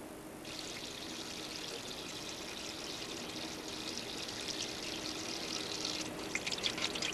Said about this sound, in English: thoroughly wash your hands with hot water and soap